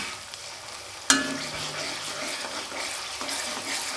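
Onion and ginger paste fry in a pan for a Kannada peas palya, a bright continuous sizzle broken by a sharp clank of a spoon on the pan and soft scraping stirs, close and with no voices.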